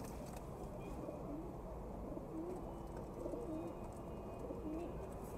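Domestic pigeons coo repeatedly in a loft in Mansoura, Egypt, soft rolling calls rising and falling over a steady low rumble of background noise, several birds overlapping without pause.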